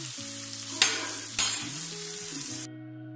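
Onions frying in oil until golden brown, a bright steady sizzle with a couple of louder stirring bursts, close up over low background tones, cutting off abruptly before the end.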